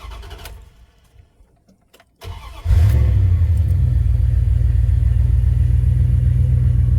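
A 1996 Dodge Ram 1500 4x4 with a 5.9 liter Magnum V8 cranks for a couple of seconds, catches, and roars to life, then settles into a loud, steady, deep idle close by.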